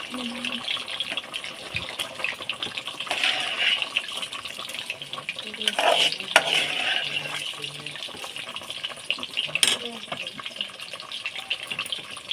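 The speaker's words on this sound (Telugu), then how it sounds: "ఈ విధంగా కలుపుకోవాలి ఎక్కువ కలుపుకోకూడదండి రైస్ విరిగిపోతాయి" Rice for chicken dum biryani is gently stirred into a pot of water. Continuous sloshing and swishing of water with occasional thuds of the spoon on the pot, close up, with a voice speaking over it.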